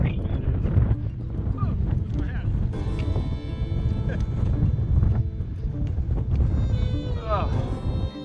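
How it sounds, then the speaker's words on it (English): Strong wind buffets the microphone in a constant, loud rumble on the Highline Trail in the High Uintas Wilderness, with faint voices and scattered movement sounds mixed under it. "It's so windy."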